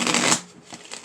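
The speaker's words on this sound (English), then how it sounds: "We're going to shuffle 3 times, cut it, clarify." Tarot cards are riffled and shuffled with a quick papery flutter that fades after a moment, followed by a few softer card sounds.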